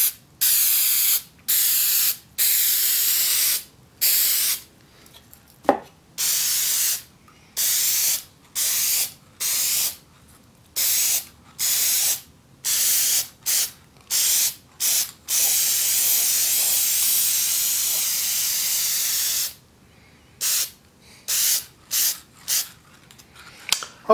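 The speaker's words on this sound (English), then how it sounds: "I'm just going to use canned lacquer." Lacquer sprayed from an aerosol can in repeated hissing bursts of a second or two each, with short pauses between them and one long continuous pass near the middle, close and fairly loud with no talking.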